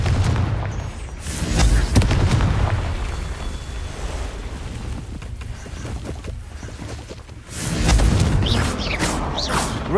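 Confringo fire spell cast repeatedly in Hogwarts Legacy, producing loud booming blasts with rumbling low end near the start and again toward the end, separated by a quieter crackling stretch of magical combat effects.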